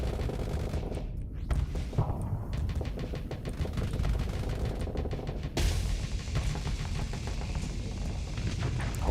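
Dense, continuous weapons fire from a Starsector space battle against two pirate cruisers, with rapid machine-gun-like bursts and heavy torpedo impacts hammering shields, loud and unbroken throughout.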